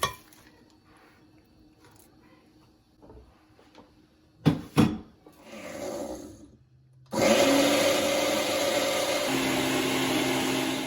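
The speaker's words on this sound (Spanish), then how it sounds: "Esto lo vamos a moler todo junto." A blender grinds onion, garlic and oregano for pozole sauce, a few clinks and knocks of the jar, then the motor starts and roars steadily at close range for several seconds.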